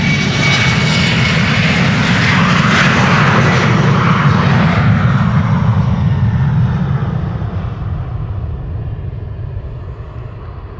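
Loud roar of a departing jet airliner at Amsterdam Schiphol, an airline flight, up close and steady for several seconds before slowly fading as it climbs away; no talking.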